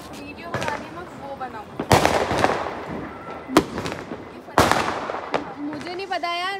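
Diwali firecrackers and a rocket burst outdoors in a string of sharp cracks and bangs, several loud close pops with crackling tails and a whistling rise at the end, as people talk nearby.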